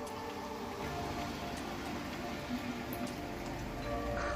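Steady rain pattering on a surface, a dense continuous hiss of drops with occasional louder ticks, no voices.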